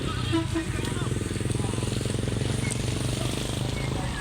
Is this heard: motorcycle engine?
yes